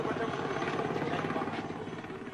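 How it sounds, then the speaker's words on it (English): Helicopters return to pick up soldiers in 1979 Rhodesia, their rotors beating in a loud, steady rapid chop close by, with faint voices underneath. "the choppers return to pick up the soldiers"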